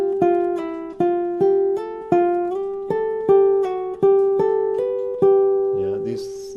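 A Russian seven-string guitar in G plays a single bar of plucked notes with a slide up the first string, about a dozen clear, evenly spaced attacks ringing close and alone, ending in a brief scrape.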